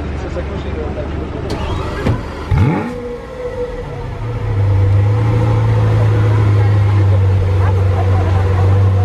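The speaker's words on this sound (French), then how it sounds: "La Veneno en mouvement, première fois que je la vois rouler." Lamborghini Veneno Roadster pulling away with a loud, rising engine roar that settles into a steady, close drone; a brief whoosh and rumble come first, and a voice is heard nearby.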